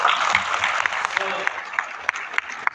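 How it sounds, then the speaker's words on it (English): An audience at a BBS program in Imphal gives a round of applause, dense clapping that fades slightly with a few sharper claps standing out, alongside voices. "Can we give them a big round of applause?"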